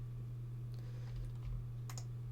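Several keys are pressed on a computer keyboard during work in Maya, a few faint scattered taps with one sharper click near the end, over a low constant hum.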